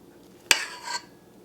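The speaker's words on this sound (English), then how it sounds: "So I'm going to take half of our cake batter and put it in the bottom of my prepared bundt pan" Cake batter for a cranberry sauce coffee cake dropped from a utensil into a greased and floured bundt pan: one sharp metallic clink, then a short soft scraping smear, close and alone.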